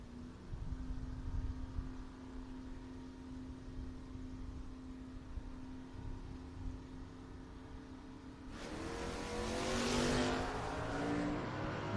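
A Mustang drag race car launches down the right lane at a drag strip, its engine rising into a loud, roaring burst after a long stretch of quieter idling and distant crowd noise.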